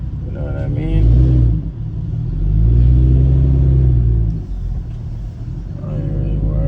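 A 540i car engine revs before a race against a gutted 340, with two swelling rev pulls that rise and fall over a low idle rumble. A voice is briefly heard near the start and end.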